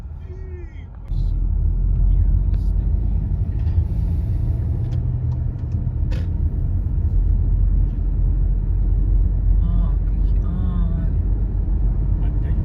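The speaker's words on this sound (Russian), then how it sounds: "Все, едем по новому асфальту." A car driving onto a freshly laid asphalt road, a steady low engine and tyre rumble that swells after a quiet opening and continues throughout, with people talking inside the car.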